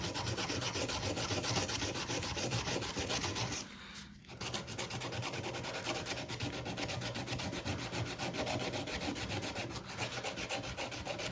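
Hand sanding of wood with sandpaper, a continuous close scratchy rubbing in quick back-and-forth strokes, with one brief pause partway through, no voices.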